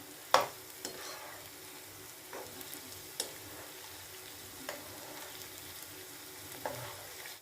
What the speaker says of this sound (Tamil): ஒரு பக்கம் பொரிஞ்சாச்சு, இப்போ அடுத்த பக்கம் திருப்பி போட்டுக்கலாம்